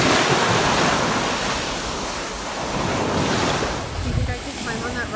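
Waves wash onto a secluded New Zealand beach with clear water, a steady surf roar with wind buffeting the microphone and a brief closer splash near the end.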